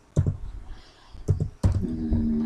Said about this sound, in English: Then you can type your date of birth here